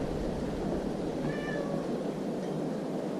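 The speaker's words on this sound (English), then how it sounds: "Please let the cat in." A cat meows once, a short tonal call rising over a steady background hiss, fairly close, with no talking around it.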